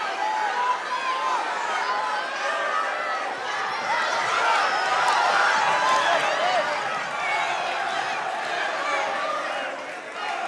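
Crowd at a varsity boys wrestling dual meet between West Essex and Caldwell in a gym, a dense wash of voices and cheering that swells midway, with a commentator talking over it.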